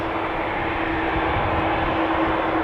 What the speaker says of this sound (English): The 777-300 from KLM